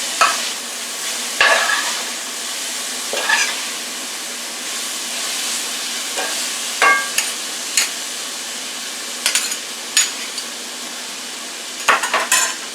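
Cinnamon squash with raisins is stirred in a pan, with a spoon scraping and clattering in scattered bursts over a steady low sizzle, fairly close, and no talking.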